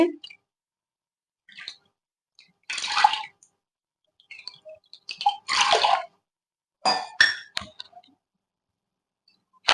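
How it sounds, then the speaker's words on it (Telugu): Water goes onto washed urad dal in a kitchen, three cups for one cup of lentils, in several short splashing bursts separated by near silence. "ఒక కప్పుకి మూడు కప్పులు వాటర్ పోసుకోవాలి"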